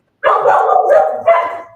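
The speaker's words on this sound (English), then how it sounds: "I know that sound. That's Jim's dogs." Dogs bark and yelp loudly and close by in one continuous rough burst lasting over a second, with no talking.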